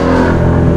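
A modified car engine with an aggressive tune revs loudly and close up in a brief, dense burst of exhaust rumble, with no voices over it.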